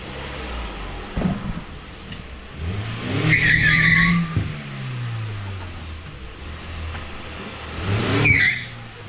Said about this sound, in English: Will I do a shed skid? Oh no, the tyres are wet, maybe.